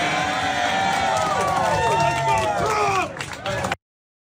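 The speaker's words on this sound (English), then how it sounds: "Did you hear the response from the crowd?" A large crowd at a political rally cheers and shouts loudly in a continuous roar of many voices, which ends abruptly.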